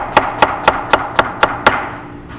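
A knife chops an onion into thin French-cut slices on a board, seven crisp, evenly spaced strokes close by, then a brief quiet.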